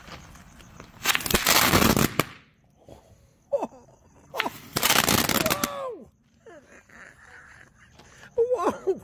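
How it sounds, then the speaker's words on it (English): TNT Crackling Balls fireworks, three lit together, burst into two long dense crackling volleys after launch, each a couple of seconds of loud popping, separated by brief whistles and quieter gaps. "Now, we just put three out here of the Crackling Balls from TNT."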